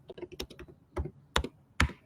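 Fingers typing on a computer keyboard, close by: irregular bursts of crisp keystrokes with a few louder, heavier presses spaced through the passage, no voices.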